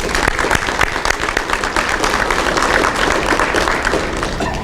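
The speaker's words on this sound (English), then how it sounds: "I think they deserve a round of applause for the work that they've done" Steady, dense applause from an audience honoring detectives and deputies at a Prince George's County Crime Solvers awards ceremony, continuous clapping with no talk over it.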